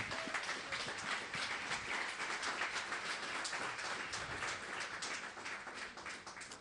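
Congregation applauding in a church service, a steady dense wash of clapping that holds evenly throughout at moderate level with no voices on top.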